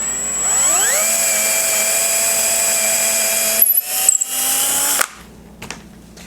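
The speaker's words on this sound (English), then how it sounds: "steady them very carefully and drill through all of them" A power drill bores through a stack of wooden slats for a hanging Christmas star, with a steady high whine that rises as the motor spins up, holds for several seconds, then cuts off. Close and loud, with no talking.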